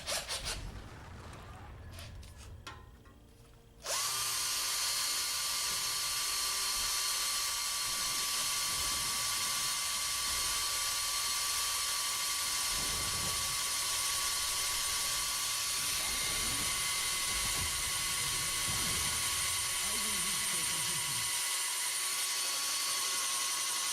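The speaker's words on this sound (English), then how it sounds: "we're going to use the big bit, which is a 1/2 inch bit, and we'll see if it'll pop a hole through the metal also" A drill with a half-inch bit boring through metal, a sustained high mechanical whine running steadily for about twenty seconds after a short start, with faint grinding variation throughout.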